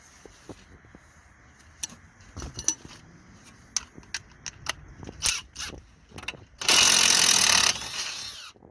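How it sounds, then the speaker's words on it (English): A ratchet with a 19mm socket loosens the top anti-roll bar linkage mount on a Seat Altea, with scattered metallic clicks and clatter and then a loud, sustained burst of rapid ratcheting near the end. "just gonna remove the top anti-roll bar linkage mount, and we're using a 19mm socket to do that"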